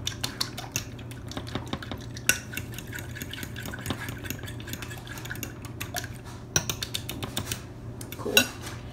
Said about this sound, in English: Whisk up the eggs.